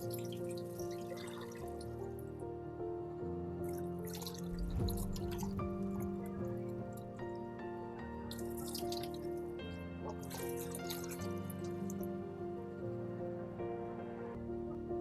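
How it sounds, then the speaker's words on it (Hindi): Strawberries being washed under a running kitchen tap, with water trickling and splashing at close range and irregular drips and sloshes over a steady flow, with no speech. "स्ट्रॉबेरीज को जो है अच्छे से धो लेंगे हम।"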